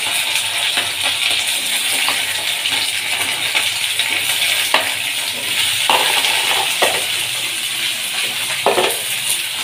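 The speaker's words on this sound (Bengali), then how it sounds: "এই দেখো ঢ্যাঁড়স কেটে রেডি করে রেখেছিলাম, এখন গরম গরম ভেজে নেব।" Freshly cut okra (bhindi) fries hot in a pan, giving a loud, even, continuous sizzle with a few faint clinks scattered through it.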